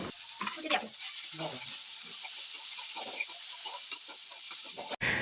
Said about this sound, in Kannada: ಅದನ್ನು ಆ ಕ್ಯಾಪ್ ಕಡಾಯಿ ಒಳಗಡೆ ಹಾಕಿ ಕ್ಲೀನಾಗಿ ಫ್ರೈ ಮಾಡಿ